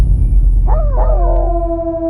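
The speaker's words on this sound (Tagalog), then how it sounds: "Sa isang iglap ay narinig ko ang mga alulong ng aso" Dogs howl in a rural village at night, a couple of rising, wavering howls that settle into one long sustained tone over a low rumbling background, fairly close and loud, with no talking.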